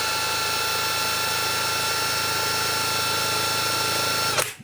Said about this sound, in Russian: обратите внимание, насколько тихонечко работает данный гайковерт